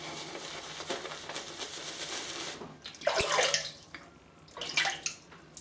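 Tap water runs in bursts to wet the tips of a shaving brush while lathering a soap, with steady splashing under a room hum, pausing briefly before a second, shorter run of water near the end.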